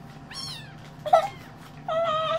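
A white cat meows several times, short nasal calls close by in a quiet room, the last one drawn out.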